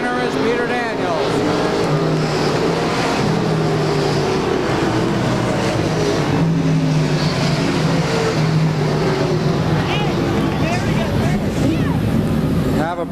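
Race cars roar around the turns at Claremont Speedway during 1996 weekly racing, a dense, steady engine drone with passing whines, loud and continuous, with an announcer talking over it.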